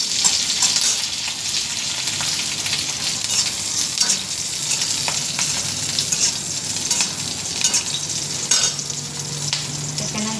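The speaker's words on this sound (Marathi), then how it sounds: "थोडंसं तेल घालून मिरच्या आधी भाजून घेतली." Green chillies fry in a little oil for a Maharashtrian ridge gourd peel chutney, giving a steady, close, loud sizzle with faint crackles and occasional stirring scrapes throughout, no talking.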